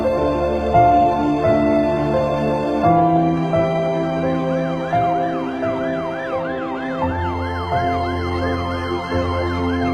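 An ambulance siren wails loud and close, cycling through rising and falling tones over a low vehicle rumble.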